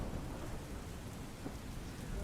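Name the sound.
heavy rain in Mandvi, Kutch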